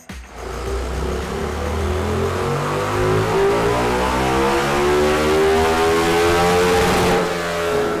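A KTM Super Duke 1390R motorcycle engine roars loudly and close during a standing-start acceleration run, its pitch climbing steadily through the gears in one long, sustained pull.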